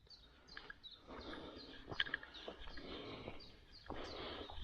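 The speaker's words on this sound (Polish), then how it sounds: "pięknie ptaszki śpiewają" Small birds sing and chirp in a forest, a mix of thin calls and short trills at moderate distance over a quiet, slightly noisy background, without any talking.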